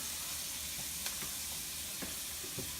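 Onions and bacon cooking in a pan make a soft, even sizzle, with a few small pops and light taps from stirring over the quiet frying.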